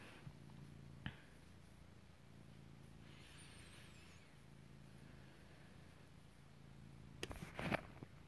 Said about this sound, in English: My cat's right here with me.